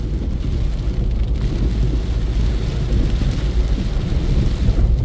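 Heavy monsoon rain pours steadily over the sandy cotton-growing farmland around Fatehabad, with deep thunder rumbling through a dense, constant roar and gusts of wind buffeting the microphone the whole time.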